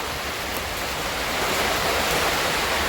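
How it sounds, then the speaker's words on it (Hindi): Heavy rain pours down amid a strong windstorm, a dense, loud, unbroken roar of falling water and gusts that swells slightly toward the end, with no talking. "कितनी बारिश हो रहा है और हवा बहुत काफी बह रहा है।"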